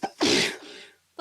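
A single loud, close sneeze, with a sharp intake of breath and then a harsh burst of air. A brief voiced sound follows right after it.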